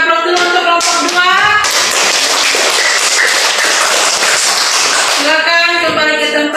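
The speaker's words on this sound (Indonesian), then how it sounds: "Oke, kita berikan aplaus dulu untuk kelompok 2." Group 2 at a school competition gets a burst of applause that rises into a dense, loud stretch of clapping for about three seconds. It sits between stretches of talk at either end.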